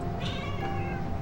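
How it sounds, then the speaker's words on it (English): Cat meowing in the video game Angels With Scaly Wings, one short drawn-out meow over a low background hum. "And this cat who is clawing up my leg!"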